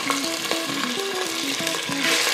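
Small chicken pieces, about 500 grams, fry and sizzle in a pan with a steady hiss while being stirred, and nobody talks.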